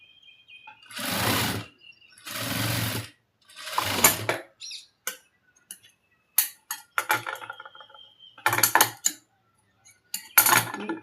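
A sewing machine stitches a blouse shoulder seam in several short whirring runs of about a second each, mixed with lighter clicks and fabric handling between bursts.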